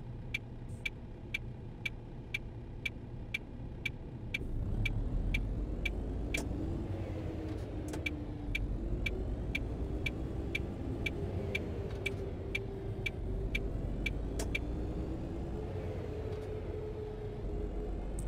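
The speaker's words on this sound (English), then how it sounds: "I don't know, I like the engine sound of this thing." Truck engine in the On The Road truck simulator game drones steadily with shifting revs, joined by a regular ticking indicator that fades after a few seconds; the engine swells louder partway through and holds a continuous hum.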